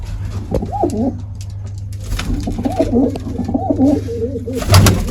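A Lal China pigeon, kept with its young chicks, coos up close in repeated rolling, throaty calls that come in bursts, with a brief louder rustle near the end.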